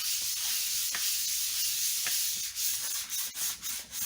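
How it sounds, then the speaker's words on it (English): Sanding an Aria bass guitar body with 220 grit sandpaper, a steady close-up scratchy rubbing with rhythmic back-and-forth strokes, heard alone. "Okay, let's do some sanding."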